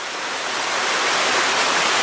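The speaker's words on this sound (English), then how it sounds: "There's more and more waterfalls, even more behind me back here." Waterfalls at Acrigg's Falls near the Bordner Cabin pour nonstop in a loud, close, steady roaring rush of falling water, with no voices.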